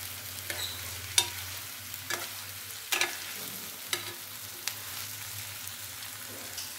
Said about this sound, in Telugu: ఈ ముక్క చెదరకుండా ఇట్లా ఫ్రై చేసుకోవాలి కొంచెం సేపు.